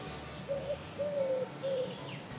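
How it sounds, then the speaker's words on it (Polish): A bird gives three clear whistled notes in a slow sequence against quiet outdoor background in a garden. "Pojawiają się dźwięki, śpiew ptaków"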